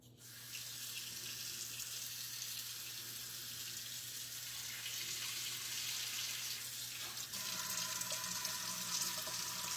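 Tap water running steadily to water an amaryllis bulb, a continuous hiss and splash close by that shifts slightly in tone partway through, with no talk.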